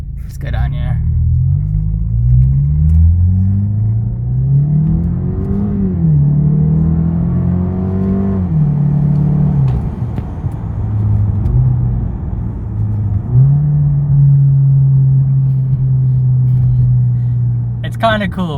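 Lexus IS200t with an axle-back exhaust delete drones loudly from inside the cabin while downshifting, a deep sustained boom that steps up and down in pitch with each gear change and stays steady and continuous throughout.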